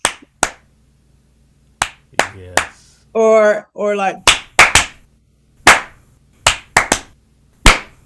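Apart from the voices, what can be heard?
Nigerian-style rhythmic hand clapping beats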